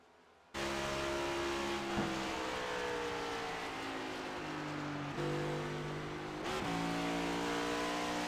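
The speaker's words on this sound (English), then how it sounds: "Downshifting, obviously, with these next gens, with how long these straights are, downshifting will be a very common thing here at Pocono." Onboard a NASCAR Next Gen Cup Series race car at Pocono Raceway, the engine bursts in loud and sustained, pitch sliding down through repeated downshifts with sharp blips between gears, close and with no voices.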